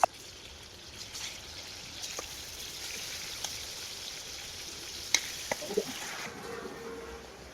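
Pork steak frying with garlic in a pan gives off a soft, even sizzle throughout, with a few small pops and crackles standing out above the steady hiss.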